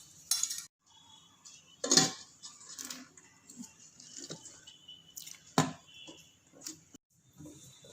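Bombay halwa being moved onto a plate: a few sharp clinks and knocks of utensils against dishes, with softer scraping and handling noises in between, close and fairly quiet.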